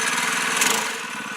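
A mini bike's Predator 212 engine with a bypassed governor runs at high revs, a loud, rough buzzing drone that swells briefly then eases slightly, close by with no talk.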